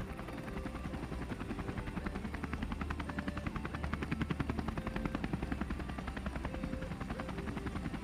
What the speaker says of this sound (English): You get out of the heli, the machine goes away